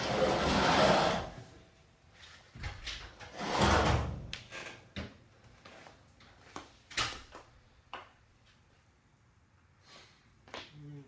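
A clothes dryer is dragged out from the wall in a home laundry area, making a few loud scraping bursts followed by scattered knocks and bumps that grow quieter.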